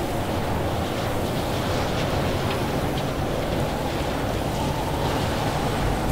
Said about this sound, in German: Das ist ein bisschen windig hier draußen.